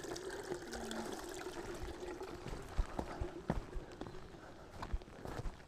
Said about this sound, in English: You hear water and you're like, oh, do you need water?